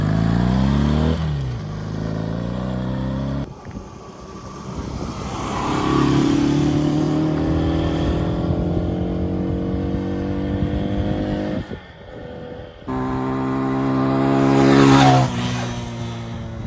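A Honda CB 125 K5 motorcycle engine revs up and down during a ride, its loud, continuous rising and falling whine holding throughout with brief dips as gears change.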